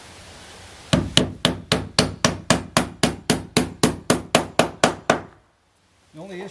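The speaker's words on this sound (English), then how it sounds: "Now you can nail this without pre-drilling." A hammer drives nails into Hardie fiber-cement board siding without pre-drilling, fifteen sharp, evenly spaced ringing blows in a steady rapid rhythm, close and loud, then a brief silence before a voice starts speaking.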